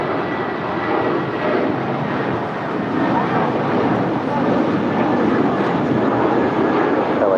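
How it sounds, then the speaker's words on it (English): A 28-year-old United Airlines Airbus A320 departs LAX for San Francisco, its jet engines a loud, steady roar close by that holds for the whole stretch, with talk heard over it. "That is United 2611 departing to San Francisco. It's a 28-year-old Airbus A320."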